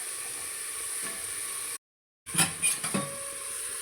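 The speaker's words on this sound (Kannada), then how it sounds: "ಈರುಳ್ಳಿ ಎಲ್ಲ ಚೆನ್ನಾಗಿ ಫ್ರೈ ಆದಮೇಲೆ ಬೀಟ್ರೂಟ್ ಕಟ್ ಮಾಡಿ ಇಟ್ಕೊಂಡಿದ್ದೆ, ಅದನ್ನು ಹಾಕ್ಕೊಳ್ತಾ ಇದ್ದೀನಿ" Chopped beetroot tipped into a pan of fried onions: a soft clatter and scraping against the pan, then a continuous hiss of frying, with a brief dropout of all sound in the middle.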